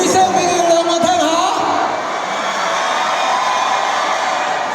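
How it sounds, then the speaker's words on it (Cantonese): A concert audience in Singapore cheers and roars loudly and steadily, a dense sustained wall of crowd noise, with a voice calling over it at the start. "俾啲聲俾佢哋兩個聽下"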